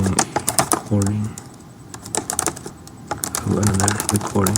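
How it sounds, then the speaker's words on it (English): Close, rapid clacking of a computer keyboard comes in uneven bursts, with a voice speaking over parts of it. "Typing sounds good, doesn't it?"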